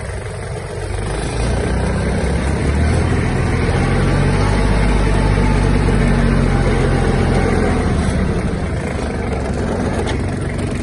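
A Kubota GB-18 Japanese mini tractor engine drones loudly and steadily while driving, a low rumbling diesel note close by that rises as it pulls away and holds throughout.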